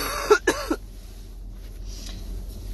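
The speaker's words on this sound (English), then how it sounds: "I've just had a lingering cough ever since" A lingering cough from an adult indoors: two or three quick, raspy throat-clearing coughs up close at the start, followed by a quiet room.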